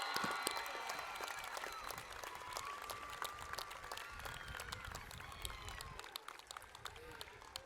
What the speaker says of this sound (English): Let's give the class of 2025 another big round of applause.